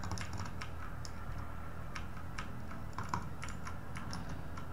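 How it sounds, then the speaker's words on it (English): Computer mouse and keyboard clicks during a Minecraft Bedwars game session, a quiet, rapid, irregular patter of small sharp clicks over faint background hiss. "I hope you can hear my mouse clicks though."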